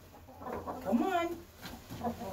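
Broody hens in a coop cluck and murmur in short, close bursts, with one louder rising cluck in the middle.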